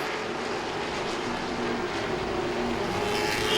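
Late model race cars roar around Langley Speedway in a steady, dense engine drone that holds at constant loudness, with several cars close together and no voices.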